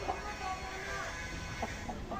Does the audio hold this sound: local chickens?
yes